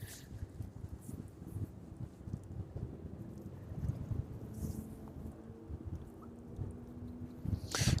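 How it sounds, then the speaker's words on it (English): Wind blowing at East Midlands Airport on a cold evening, a low continuous rumble buffeting the microphone, with a few brief gusts rising above it. "It turned out to be a bit of a windy, cold evening."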